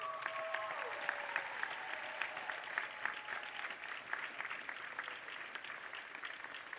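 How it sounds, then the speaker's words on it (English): A choir concert audience in a church gives a round of applause for students, steady many-handed clapping at moderate distance with a few faint sustained tones fading early. "can we give them a round of applause?"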